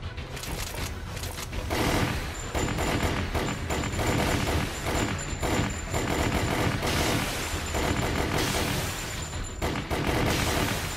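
Rapid, dense gunfire in Resident Evil: The Umbrella Chronicles, concentrated on a transformed creature, rattles continuously in loud bursts with heavy thumps mixed in.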